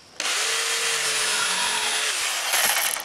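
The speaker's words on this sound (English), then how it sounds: "I'll use my jigsaw right outside here" A jigsaw cuts through wood for a laminated keelson on an 18-foot sailboat build, a steady buzzing rasp for about three seconds, close and loud with no talk.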